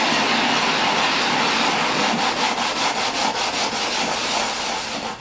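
Silicon carbide grinding compound worked across a sharpening stone to flatten it, a steady gritty rubbing and scraping that runs loud and continuous with a rhythmic back-and-forth stroke, no talking.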